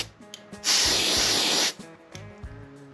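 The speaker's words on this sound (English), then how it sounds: "Airbrush is spraying good." A steady, loud airbrush hiss bursts on for about a second, spraying white paint onto a fishing lure, then cuts off, with quiet room sounds before and after.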